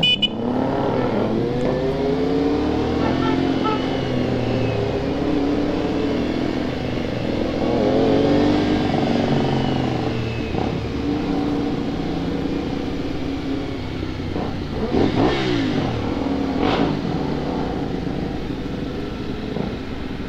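Kawasaki ZX-4RR inline-four and other 400cc motorcycles, a single-cylinder among them, on a night ride: a steady loud engine drone with rising and falling revs throughout, sharp rev bursts near the end.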